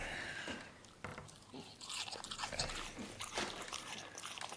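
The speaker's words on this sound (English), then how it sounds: "Is that crunchy, Eric?" A French bulldog chewing a strawberry or apple slice, faint, close crunching and biting in uneven bursts that grow busier toward the end, with no one speaking.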